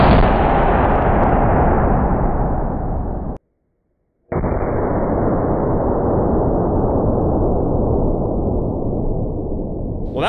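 A rifle fitted with a bayonet fires at a sledgehammer, with a tree used as a shooting rest outdoors; two long, loud booming blasts with decaying rumble, separated by a brief silent gap.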